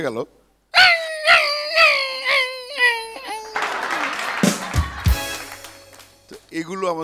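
A human voice imitates a dog that has lost a fight: a series of rising whimpering yelps, then a noisy, strained howl and scuffling sounds, loud and close, with another voice briefly at the end.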